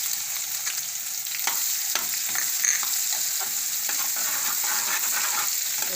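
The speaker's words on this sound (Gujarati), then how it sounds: "અને હવે આપણે આમાં ડુંગળી નાખી દઈશું." Onion sizzles in hot oil with asafoetida and ginger, a steady loud frying hiss with scattered crackles and occasional stirring scrapes throughout, no voices.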